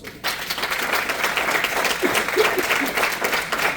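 A congregation at a church sermon breaks into loud, sustained applause, a dense wash of many hands clapping together that starts abruptly and holds steady to the end.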